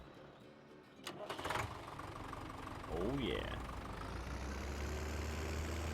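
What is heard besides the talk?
small tractor engine starting and idling in a farming video game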